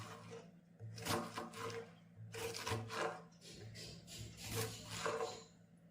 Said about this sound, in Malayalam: ഇനി നമുക്ക് ചെറിയ പീസസ് ആയിട്ട് കട്ട് ചെയ്തെടുക്കാം.